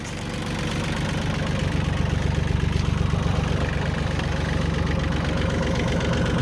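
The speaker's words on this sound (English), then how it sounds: "This little tractor is really fun to drive though." A John Deere 750 compact tractor engine runs steadily while moving logs, with a rapid, even diesel knock and a low throbbing drone that holds constant throughout.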